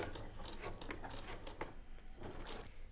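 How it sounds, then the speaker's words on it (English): Sewing machine stitching in the ditch along a piped sleeve cuff seam: a quiet, close mechanical whir with soft rhythmic clicking of the needle mechanism, no voices. "I am carefully stitching in the ditch while it's actually on the seam line where the piping is stitched to the cuff"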